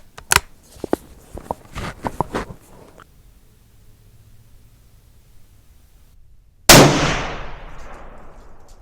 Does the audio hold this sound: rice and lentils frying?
no